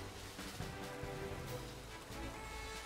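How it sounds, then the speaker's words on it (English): Rainfall in the video game Pokemon Scarlet, a soft, steady wash of falling water at low level with a faint, even patter and no break throughout. "I like rain, but this is ridiculous."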